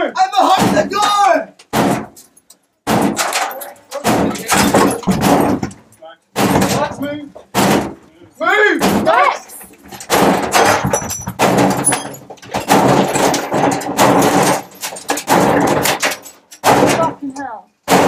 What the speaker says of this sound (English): sledgehammer! I'm behind the door!